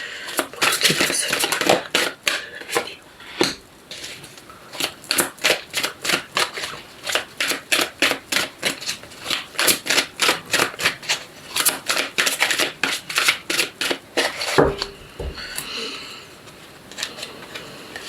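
A tarot deck being shuffled by hand up close: rapid bursts of riffling card flutters repeat in quick, rhythmic runs with brief pauses between them, and no one speaks.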